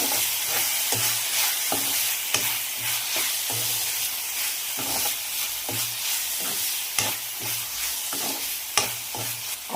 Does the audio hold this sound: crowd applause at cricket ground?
no